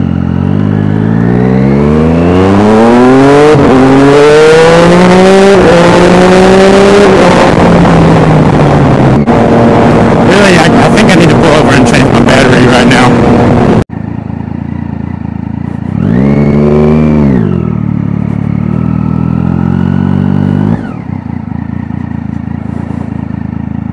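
A Triumph Daytona 675R track bike's engine runs loud and close, climbing through repeated high revs and settling back, then giving another sharp rev after a break, with no talking over it.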